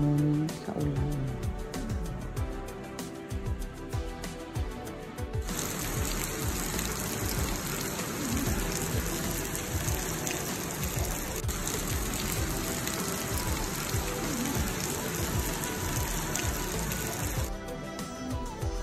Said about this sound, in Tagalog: Ayan, umulan ng todo.